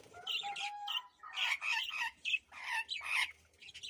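Newly arrived sky-blue pet birds, including a new male, chirp and squawk in quick, bright bursts close by, the calls overlapping in a busy chatter with no talking.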